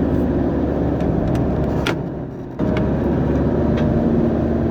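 A car drives along a winding mountain road through the Antalya highlands, its steady road and engine noise loud and close throughout, with a brief dip in level partway before the drone resumes.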